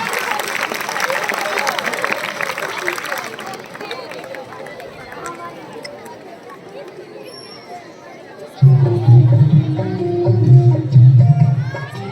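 Crowd applause at a village Republic Day celebration as girls come onto the stage, a broad wash of clapping and crowd noise that fades, then a loud amplified voice and music cut in.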